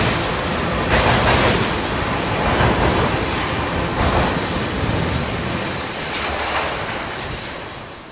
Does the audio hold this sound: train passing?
yes